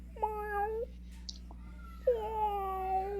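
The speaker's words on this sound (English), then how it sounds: "And you hear a faint mewling" A cat gives two soft, drawn-out mewls separated by a short pause, faint and fairly close over a low steady hum.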